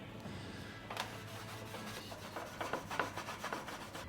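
Cloth rubbing a metal seat panel clean with methylated spirits during a Volkswagen fabrication build, a faint, steady scrubbing made of repeated short wiping strokes with no talk.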